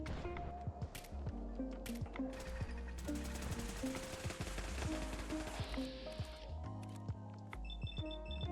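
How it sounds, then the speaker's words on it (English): Rapid bursts of gunfire from Fallout 4 crack out in uneven clusters amid busy game sounds and clanks, some shots loud and close, others scattered, with no talking. "Ah, I did hear some gunshots."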